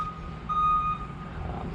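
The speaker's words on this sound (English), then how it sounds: "someone's got a moving truck at their house, or Amazon" A moving or delivery truck reversing near a house sounds one clear, steady electronic beep tone over a low outdoor rumble, moderately loud and close by.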